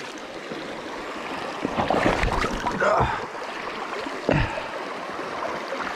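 Water flowing in a rocky brook in Vermont in the fall, a steady rushing burble with louder splashing bursts near the middle and a brief slosh later, close by.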